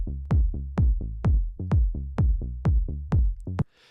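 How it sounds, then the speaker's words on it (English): Dance-music kick drum and bass line playing together with no sidechain compression, sounding muddy: a steady, evenly spaced run of about a dozen booming low kicks blurring into the bass, ending abruptly. "So if we play these together without the kickstart on the bass line, it sounds like this."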